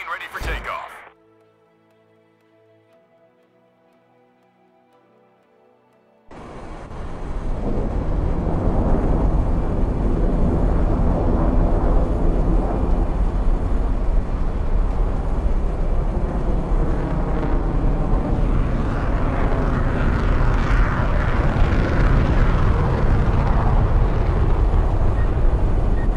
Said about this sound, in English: Plane ready for takeoff.